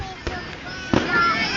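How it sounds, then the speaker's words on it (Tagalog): Fireworks exploding at the UP Centennial lantern parade: two sharp booming bursts, one early and one near the middle, ring out over a steady outdoor crowd hum while people talk nearby. "sumabog yung yung bahay tapos nag-fireworks"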